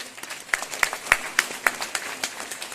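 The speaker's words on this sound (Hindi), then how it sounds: "एक बार हेमंत शर्मा जी के लिए जोरदार ताली हो सकती है।" A small audience at a business event claps in rhythmic unison, slow evenly spaced sharp claps over soft background murmur, fairly quiet and close.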